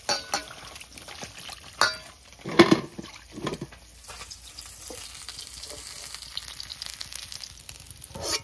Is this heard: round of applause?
no